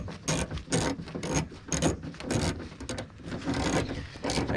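Hand ratchet tightening a bolt on the door of a 2011 Subaru Legacy: quick, rhythmic metallic clicking bursts repeated close by, with no talk.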